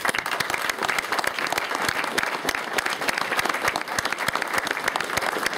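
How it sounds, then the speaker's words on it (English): Dense, sustained audience applause at a press conference opposing House Bill 474, many hands clapping steadily and close without a break, with no one speaking over it. "I'd like to give them a round of applause"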